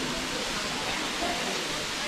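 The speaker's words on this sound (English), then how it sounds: "Walking down along here to the lower pool and underneath the waterfalls here" A waterfall at the lower pool in Zion National Park pours as a steady, dense roar of falling water that fills the air. A person talks briefly over it.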